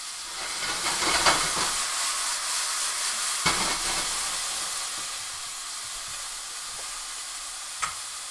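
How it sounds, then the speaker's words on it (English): Beef sears in a pan over high heat with a steady, loud hiss and sizzle, broken by a few sharp crackles and some stirring scrapes, with no talk. "we're searing it, high heat, so there's lots of smoke"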